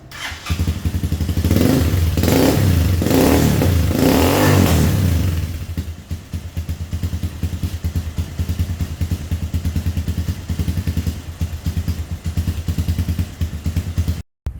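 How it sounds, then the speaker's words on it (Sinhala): A DTM 150 trail motorcycle fitted with an Akrapovic exhaust silencer revs hard in several loud, close bursts, then drops to a fast, steady idle burble that carries on alone until the end. "ඉතින් අපි හයි කරලා බලමු මේ කෑන් එකේ සද්ද කොහොමද කියලා."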